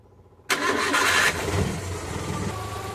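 A freshly overhauled Suzuki F6A engine cranks and catches abruptly, roaring up loudly at first and then settling into a steady, close idle.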